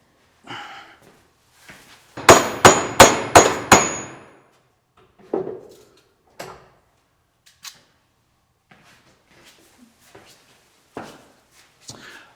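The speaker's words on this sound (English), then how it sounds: "I took it over to the vise and had something solid to strike on, and that drove it down where it needed to be." Five sharp hammer strikes in quick succession drive a Farmall Super H tractor part down against a solid vise, followed by scattered light knocks and handling clatter, with no talking.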